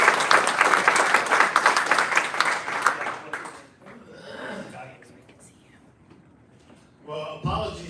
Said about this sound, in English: Please join me with a loud round of applause for Chuck Bushy.